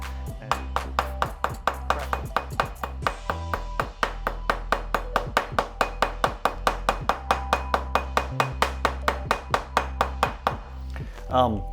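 Rapid, loud percussive chops pound steadily on a hard surface as the back of a cleaver smashes Sichuan pepper, dozens of sharp strikes in a fast even rhythm, close up.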